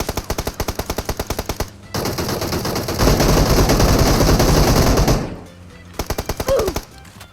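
Machine gun fire in a video game bursts out in loud, rapid rhythmic volleys, then a dense sustained roar of gunfire, a quiet gap, and another short rattling burst.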